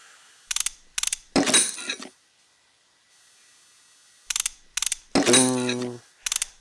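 Brake caliper removal in the Car Mechanic Simulator video game, heard as short bursts of ratcheting wrench clicks and mechanical clunks separated by near silence, close and clean.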